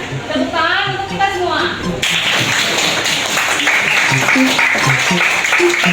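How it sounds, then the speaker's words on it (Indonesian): Classroom clapping breaks out after a couple of seconds of voices, a loud, close patter of many hands that carries on with talk and voices mixed in over it. "Tepuk tangan untuk kita"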